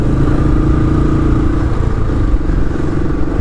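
A Royal Enfield Classic 500 single-cylinder motorcycle riding along a Melbourne boulevard, its loud, steady thumping engine throb continuous and close, with road and wind rumble underneath.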